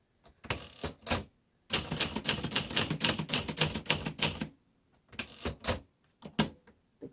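Typing on a 1951 Remington Quiet Riter vintage typewriter: bursts of rapid key strikes clacking up close, with short pauses between runs and a long steady stretch in the middle, no talking.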